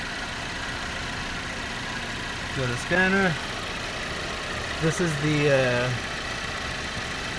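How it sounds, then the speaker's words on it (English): A 2011 GMC Terrain engine with an intake camshaft position actuator solenoid fault idles with a steady low rumble throughout, while someone speaks briefly over it. "I'm gonna let it idle, just like last time"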